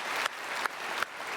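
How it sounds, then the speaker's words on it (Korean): A large Sunday congregation at Myungsung Church applauds to welcome newly registered members, a brisk burst of dense clapping with a few sharper individual claps standing out, loud and close throughout. "우리 크게 박수로 환영하겠습니다"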